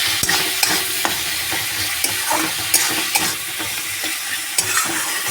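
Tomatoes frying with salt and spices in a pan for a chicken and spinach curry, a steady close sizzle punctuated by sharp scraping clicks of a spatula stirring at irregular intervals.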